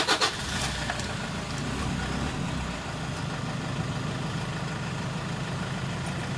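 A Toyota Hiace 16-seat van left parked about ten days cranks on a weak battery, a sluggish starter grind at the start giving way to a steady, low engine idle that runs on alone.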